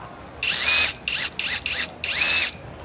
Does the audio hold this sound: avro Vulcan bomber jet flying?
no